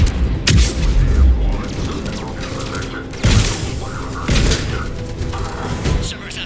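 Mass Effect 3 firefight at a checkpoint, loud booming explosions and bursts of gunfire that hit sharply several times in close succession, with combat chatter around them.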